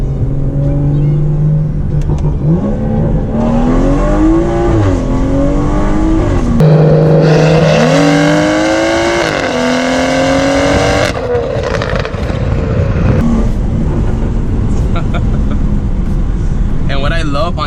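Modified BMW 340i M Sport engine revving hard during a drive, loud and continuous with rising and falling pitch sweeps through the gears, heard from inside the car.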